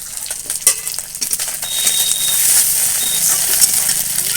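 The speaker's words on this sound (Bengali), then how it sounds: "পেঁয়াজ, মাছের মাথা সব ভালো করেই ভাজা হয়ে গেছে, দিয়ে দেবো 5 ফোড়ন" Panch phoron spices fry with onion and a hilsa fish head in a pan: crackling spatter and stirring clicks at first, then settling into a steady bright sizzle.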